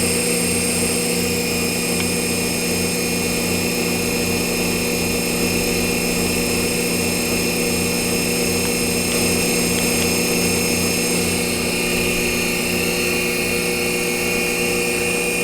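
A DC spindle on a D&M4 CNC mill spins at about 2,500 RPM, a loud, steady mechanical whine with layered harmonic tones and a pulsing low-end throb, continuous throughout.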